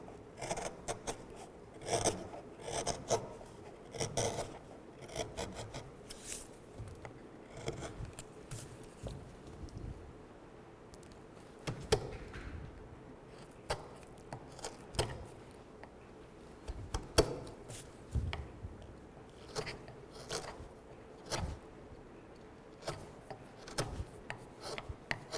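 A chisel cross carving a wooden shell gives quiet, repeated scraping and rasping strokes, each a short rub against the wood, coming at an uneven rhythm, close but faint.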